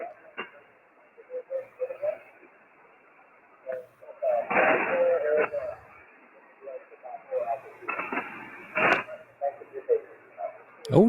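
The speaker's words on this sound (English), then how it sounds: "Man, the bands are noisy." Band noise on amateur radio, a crackly, band-limited hiss with bursts of static crashes and faint fragments of voices and tones drifting in and out throughout.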